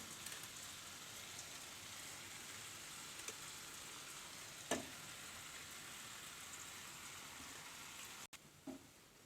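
Cooked, drained samba wheat pasta is stirred into hot oil in a pan for an Indian-style dish, making a faint, steady sizzling hiss with an occasional light stirring click.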